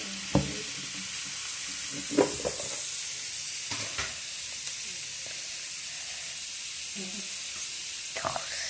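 Egg mixture frying in a pan for homemade egg puffs, a steady soft sizzle broken by a few sharp clacks of a spatula against the pan, with faint murmuring in the background.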